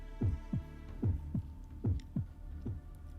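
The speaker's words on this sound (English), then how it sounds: "Let's listen to that heartbeat." Heartbeat sound effect in the Fate Grand Order video game, a series of deep, muffled thumps in paired beats over a low steady hum, with no talk.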